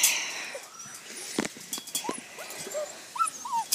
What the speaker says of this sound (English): I'll take a movie and we'll let these puppies out to play, okay?